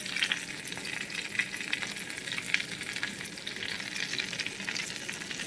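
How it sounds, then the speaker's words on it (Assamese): Stuffed pointed gourds fry in a pan with a continuous, close sizzle and crackle and occasional brighter pops, with no voices. "পটলখিনি এতিয়া ভাজিব দিছোঁ"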